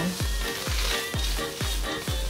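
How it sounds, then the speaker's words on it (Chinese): Black wood ear fungus being stir-fried in a wok with shredded carrot, a loud continuous sizzle broken by regular heavy scraping tosses about every half second, close up with no speech. "黑木耳给它炒香"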